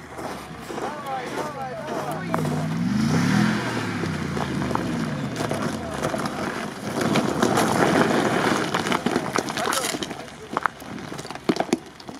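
A Jeep Wrangler Rubicon grinds along an icy rut off-road, its engine droning and rising in pitch under steady wind noise, with people talking nearby and a few sharp knocks toward the end.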